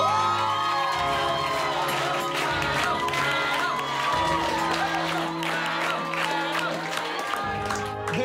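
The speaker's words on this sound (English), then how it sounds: "the crowd chanting" At a spicy curry-eating challenge, a packed crowd cheers and chants in loud, rhythmic bursts, with shouts and whoops carrying over steady background noise.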